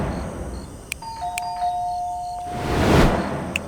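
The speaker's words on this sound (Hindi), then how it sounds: "डोरबेल बजाई थी।" A two-tone electronic doorbell chime rings once indoors, followed by a soft rustling swell of movement.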